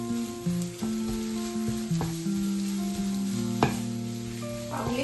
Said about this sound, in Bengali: ধনে পাতাটা এর মধ্যে মিশিয়ে দিতে হবে